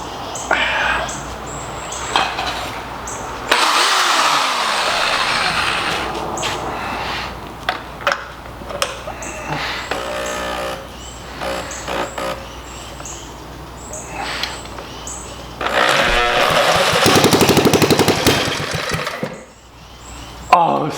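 A 1940s engine, its carburetor just cleaned, refilled with gas and primed with a syringe, is put through loud, close start attempts: bursts of rough cranking and sputtering that nearly catch, then die away.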